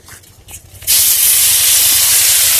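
Ginger paste and green chillies hitting hot oil in a kadai while cooking Bengali dhokar dalna, a sudden loud hissing sizzle that bursts in and holds steady after a quiet start.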